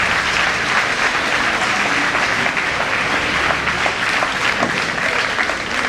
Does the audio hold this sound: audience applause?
yes